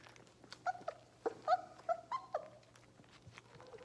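A puppy gives a quick series of high, thin whimpers and yips close by, about half a dozen short cries in a row over a quiet background.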